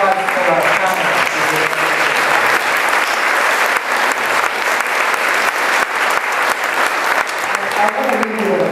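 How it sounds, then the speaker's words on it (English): Continuous crowd applause for panelists at a panel Q&A session at the Ethical Society of St. Louis, full and even clapping from the audience throughout, with faint voices underneath near the start and end. "And a round of applause for our panelists."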